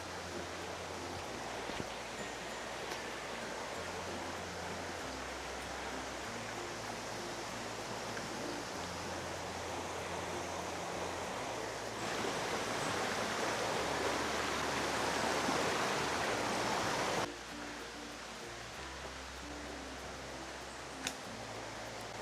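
A river flows steadily beside a mountain hiking trail in Puerto Rico, a broad, constant rush of water that holds a fairly even level and grows louder for a few seconds midway, with no talk over it.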